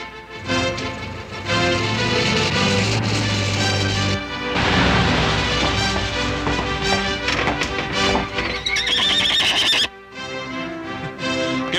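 Horses neighing and whinnying loudly alongside clip-clopping hooves, repeated calls over a busy, continuous mix that briefly drops out near the end.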